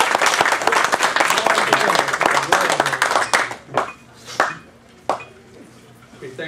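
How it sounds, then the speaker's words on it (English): An audience claps for the evening's speaker at a lecture event, starting as dense loud applause that thins after about three seconds into a few scattered, separate claps. "let's have a warm round of applause for our speaker of the evening, Dennis Nelson."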